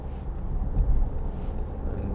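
A 2014 Volkswagen Tiguan 2.0 TDI car drives while overtaking, heard from inside as a steady low road and engine rumble, continuous and moderately loud.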